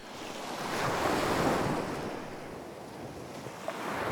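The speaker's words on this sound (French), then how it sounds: "T'as le bruit de la plage," Calm beach waves rolling onto the shore, a steady wash of surf that swells and eases gently with a soft wind rush, with no voices.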